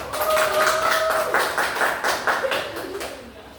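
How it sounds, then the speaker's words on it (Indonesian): Classroom applause for a student group during a science lesson, a burst of many hands clapping steadily at close range for a few seconds, with faint voices mixed in. "Beri tepuk tangan buat kelompok 2"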